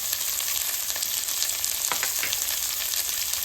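Onion, carrot and beans sizzle in hot oil with curry leaves and turmeric powder for lemon rice, a steady close-up frying hiss with a few brief stirring scrapes and no voices.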